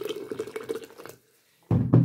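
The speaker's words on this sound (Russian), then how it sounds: "Заливаем." Hot water is poured into a carafe with sea buckthorn, ginger, turmeric, lemon and brown sugar, giving a close, bubbling trickle that pauses briefly and then resumes in a heavier gush.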